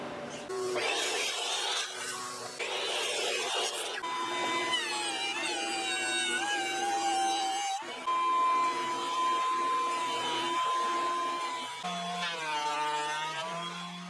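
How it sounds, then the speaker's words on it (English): A thickness planer feeds lumber through, giving a loud continuous mechanical whine and roar with shifting tonal pitch across passes, filling the workshop with no pauses and no talking. "we got our lumber planed down to the thickness that I wanted"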